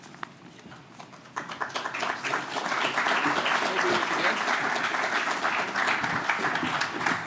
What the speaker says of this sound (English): Thank you for that golf clap.